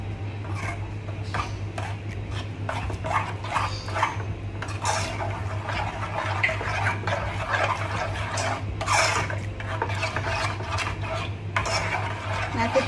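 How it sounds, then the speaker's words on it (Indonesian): Grated cheese and milk are stirred in a pot over medium heat for steamed chocolate cheese brownies: steady spoon scraping and rubbing strokes with sharper clinks, over a constant low hum. "kita aduk terus sampai mengental ya"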